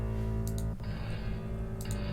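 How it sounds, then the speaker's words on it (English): A dense droning sound passes through a Valhalla Freq Echo plugin with feedback, giving a strange, shifting metallic layer, a brief dropout, then a brighter sustained wash with faint clicks. "And then I have Valhalla frequency echo again here"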